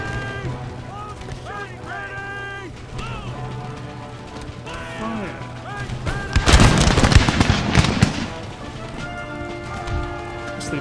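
Marines fire a crackling musket volley in an Empire Total War battle, a dense burst of sharp overlapping shots midway under a steady musical and ambient battle bed, with faint voices among the game sounds.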